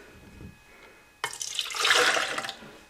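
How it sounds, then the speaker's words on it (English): Milk pours into a blender jar in a home kitchen: a sudden, steady splashing gush that swells louder, then tapers off near the end, close by with no talk. "So what I need to do is pour the milk into the blender,"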